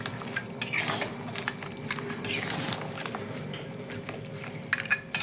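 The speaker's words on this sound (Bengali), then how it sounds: "এবার দেখো ভালো করে আবারও আমি কষিয়ে নিচ্ছি" Mutton curry being sautéed in a pan gives a continuous low sizzle under repeated scraping and clinking strokes of a spatula against the metal, steady and close.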